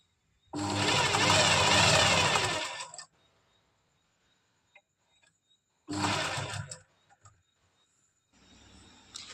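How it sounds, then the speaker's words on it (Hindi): A sewing machine stitches along folded fabric for an elastic palazzo hem in two close bursts: a long run of about two and a half seconds, then a shorter one after a pause, with quiet handling between. "इतना फैब्रिक फोल्ड करते हुए मैं इस तरह से पूरे में सिलाई लगा दूंगी"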